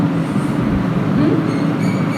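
Steady rumble of a moving train carriage heard from inside, a continuous loud roar with faint higher hiss and no clear speech.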